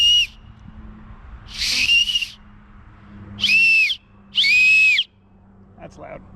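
Four loud, piercing hand whistles blown through cupped hands, each a sustained shrill tone lasting about half a second to a second, with brief gaps of low background hum and a faint clatter at the end.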